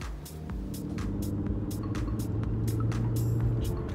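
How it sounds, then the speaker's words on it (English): A limousine driver's own car drives toward the garage, a steady low engine drone and road rumble filling the cabin throughout, with faint intermittent ticks and clicks on top. "It's a short clip of me traveling to the garage in my vehicle."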